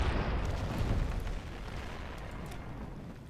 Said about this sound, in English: Your ship is the target of enemy fire.